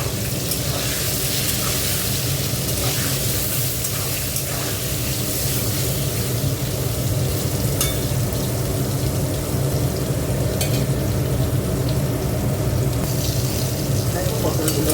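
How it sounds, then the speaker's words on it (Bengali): Pointed gourd (potol) fries in a pan with salt and turmeric, a continuous loud crackling sizzle with occasional sharper pops and a steady background rumble. "দেখো পটলগুলো ভাজা হয়ে গেছে"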